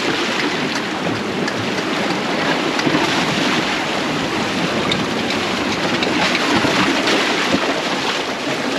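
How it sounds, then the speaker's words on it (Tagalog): Ocean waves wash and break continuously, a broad steady roar of surf with no voices, fairly loud and close. "Ayan, lalaki ng alon, no?"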